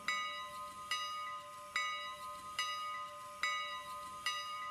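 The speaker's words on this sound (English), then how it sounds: "I actually don't mind having the bell" A locomotive bell in a railroad simulator game clangs in a steady, even rhythm, roughly one ring a second, each strike bright and ringing over a faint constant hum.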